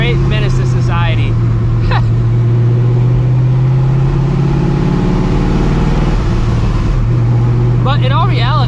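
Supercharged Shelby GT350 Mustang engine droning loud and steady from inside the cabin, a deep constant hum with a brief rise near the end, while someone talks over it.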